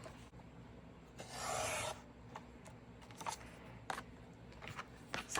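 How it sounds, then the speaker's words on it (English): Paper for a handmade mini album is trimmed, with a brief rasping slide of a cutter across the sheet followed by scattered soft clicks and taps, faint and close in a quiet room. "I'm just going to trim off the top where I messed it up"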